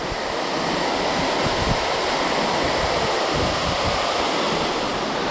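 A big desert waterfall on a trout stream roars in a constant, dense, full-band rush, loud and unbroken throughout, with no voices over it.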